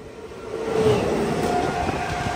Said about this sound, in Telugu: పక్క ప్లాట్ఫామ్లో ఒక ట్రైన్ అయితే పాస్ అవుతుంది.